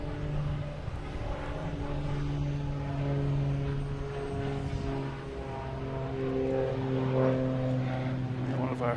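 Cape Air propeller plane taking off at Boston Logan Airport, a steady droning engine hum that holds through the whole stretch at moderate distance, with people talking over it.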